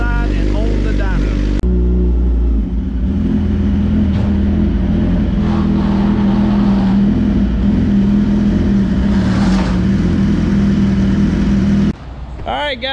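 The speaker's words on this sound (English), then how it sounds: "so we just warmed the bike up" A stock-motor 2020 Suzuki GSX-R 1000 warms up with a loud, steady idle and a rough mechanical rumble that shifts abruptly near the end, with voices faintly beneath it.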